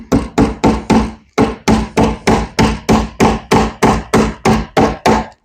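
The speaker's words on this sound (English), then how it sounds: "Take a Romex staple, put it around your wire." Rapid hammer blows drive a Romex staple over electrical cable into a wooden wall stud, roughly fifteen sharp, loud strikes in a steady rhythm with a short pause near the start, no speech.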